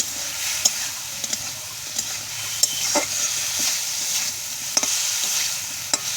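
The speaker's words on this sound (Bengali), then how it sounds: "এবার মাছগুলো আর দিয়ে দেবো সব ওই ঝালে দিয়ে কষে নেব" Pieces of fish, eggs and fish roe cook down in a spicy paste in a pan, a soft steady sizzle punctuated by periodic sharp clicks of a spatula stirring and scraping.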